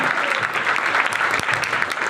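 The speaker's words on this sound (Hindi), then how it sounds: "प्लीज जोरदार तालियां।" A crowd gives sustained, dense applause at a steady, loud level throughout, with no pauses and no talk on top.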